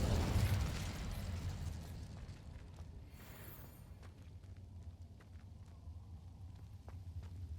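A fire spell cast in Hogwarts Legacy bursts out with a loud whooshing blast at the start, then trails into a lower crackling rumble and scattered game effects.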